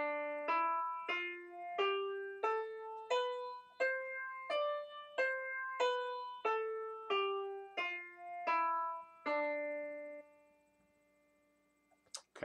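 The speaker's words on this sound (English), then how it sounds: "if you begin on D on the piano and play all the white keys," Piano playing the Dorian mode scale on the white keys from D, with about a dozen evenly spaced single notes stepping up and back down, clear and fairly quiet, the last note ringing before silence, no talk.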